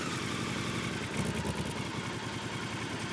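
A motorcycle engine on an amphibious bike build runs steadily at mid revs, pumping exhaust gas into pontoons, a continuous throbbing hum with a faint mechanical rattle, close and even.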